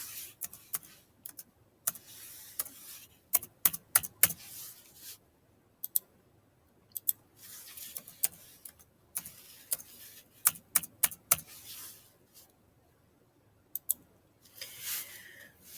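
Fingers type on a computer keyboard in short irregular bursts of close, crisp key clicks separated by brief pauses, with no talking.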